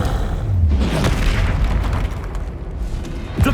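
A Confringo blasting spell in Hogwarts Legacy goes off as a deep booming explosion, rumbling and crackling for a few seconds, then a sharper pop lands near the end.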